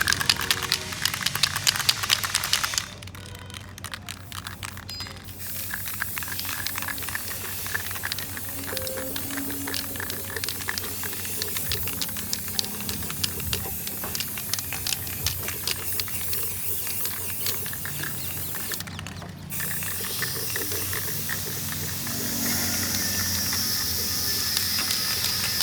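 Spray can applying matte black paint to motorcycle mudguard plates and parts, a steady hissing spray in long bursts with short pauses and some clanking of the can and parts.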